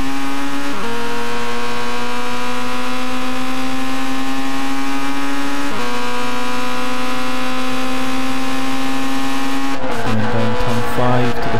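Onboard a junior race car in the Red Bull X2014 Jr Championship, the engine drones loud and close with steady harmonic pitch, shifting gears twice before a burst of tire scrub and rougher engine noise near the end.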